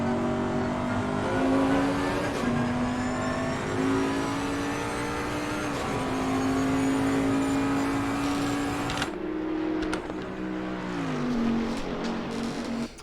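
A Bentley race car engine at Mount Panorama, Bathurst, in Assetto Corsa Competizione, holding a loud sustained drone that rises and falls through gear changes, then drops and climbs again near the end, close and continuous with no voices.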